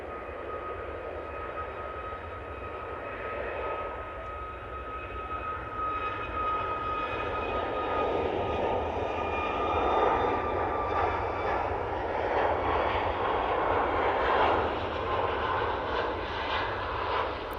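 An Emirates Airbus A380 jet approaching runway 05L at Manchester Airport gives a steady, broad engine roar with a whining tone that slowly swells as it nears, heard from a distance with no talk.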